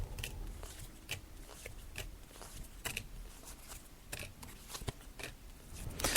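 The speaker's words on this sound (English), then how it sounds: "I'm just laying out the cards now." Tarot cards laid out one by one on a table, giving a run of soft, crisp snaps and slaps at an irregular pace, close and fairly quiet over a low background hum.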